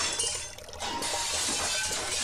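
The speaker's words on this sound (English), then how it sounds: "the tank behind me also cracked" A glass aquarium tank cracking and shattering in a sharp burst, followed by a bright, crackling hiss that lingers close by.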